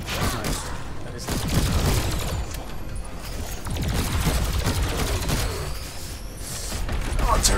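Turrets fire in the co-op shooter Alienation, a rapid fusillade of mechanical bursts and booms that stops and starts in dense clusters over steady game noise.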